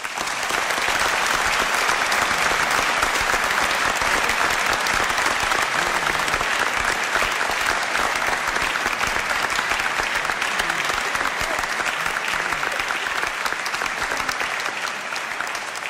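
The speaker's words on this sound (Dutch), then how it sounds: "Een hartelijk applaus voor de mensen van WZH." Steady, dense applause from a concert audience at a festival closing concert, loud and sustained without a break, with no talking over it.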